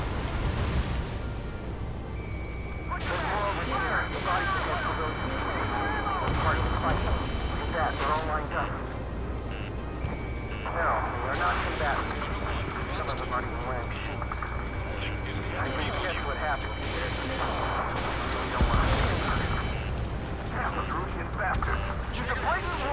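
Gunfire and explosions amid jet aircraft in the combat flight game Ace Combat 7, with booming blasts and rattling bursts over a constant engine drone, while someone talks throughout.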